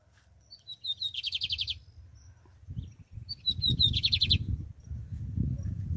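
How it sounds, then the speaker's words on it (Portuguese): A lined seedeater sings outdoors after rain, two bright bursts of rapid, trilling notes fairly close, over low background rumble and soft ambient noise. "O passarinho tá dando show."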